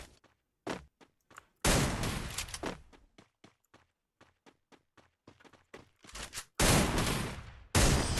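Free Fire video game gunfire in a 1v1 custom match: loud bursts of automatic fire crack out in two long volleys, with scattered single shots and sharp thuds between them. No talk.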